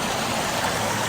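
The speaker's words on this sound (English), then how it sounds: "a really nice brook that we enjoyed by putting our feet in the very," A cold mountain brook on the Taconic Crest Trail rushes and burbles in a steady, close, full wash of water, unbroken for its brief length.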